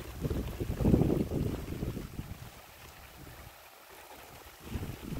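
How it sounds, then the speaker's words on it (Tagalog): Strong wind buffets an outdoor microphone in loud, uneven gusts, heaviest near the start and easing off before surging again at the end, with a low rumble and no talking. "Ang lakas ng hangin."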